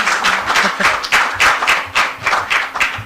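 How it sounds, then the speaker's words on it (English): A small audience claps for Nasasia after her presentation, the individual claps coming through close and somewhat uneven, a brief burst of applause. "Can we please give a hand of applause to Nasasia?"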